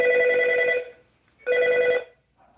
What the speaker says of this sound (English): And the phone is ringing here.